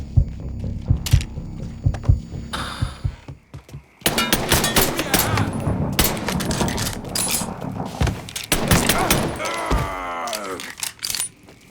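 Gunfire in the video game Mafia 3, with scattered sharp shots early, then a dense stretch of rapid bursts and mechanical clatter, with brief voice-like sounds near the end.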